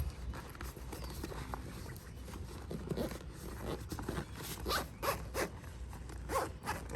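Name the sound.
zipping up the dog ramp storage bag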